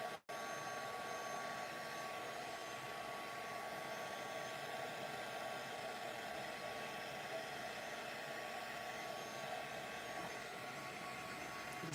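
A heat tool warms the back of a card during card making, blowing a constant steady whoosh of air that carries on unbroken after a brief click at the start, with no talk.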